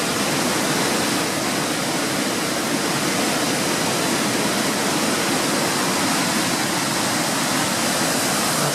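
Waterfall swollen after wet snow, its water pounding down hard in a loud, continuous broadband roar with no letup.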